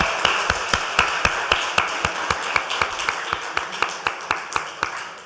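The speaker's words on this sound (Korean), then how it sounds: "박수 한번 할까요?" A church congregation clapping in unison, a steady rhythmic beat of sharp claps roughly four per second, close and bright, holding even throughout with slight room echo.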